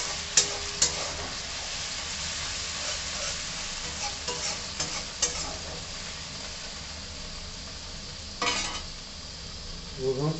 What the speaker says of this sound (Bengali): রসুনটাকে ভালো করে একটু ভেজে নেবো।